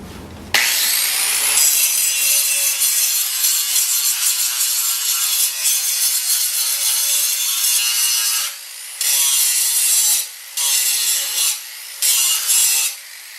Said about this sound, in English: I'm going to clean the rust off and repaint them